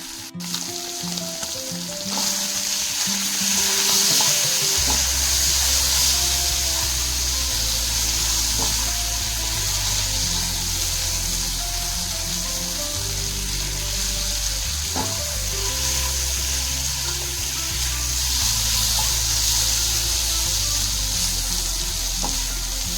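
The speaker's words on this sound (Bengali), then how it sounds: "এই পনিরগুলোকে শ্যালো ফ্রাই করে নেবেন।" Marinated paneer cubes shallow-fry in a pan for a butter paneer dish, a steady loud sizzle running throughout with faint clinks and stirring, and a low background hum beneath it.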